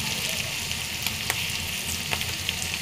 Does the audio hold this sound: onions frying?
yes